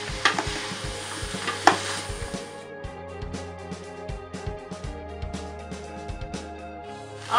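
Vegetables for broccoli soup saute in a pot, a soft sizzle broken by repeated close clacks and scrapes of a utensil stirring against the pot in an irregular rhythm.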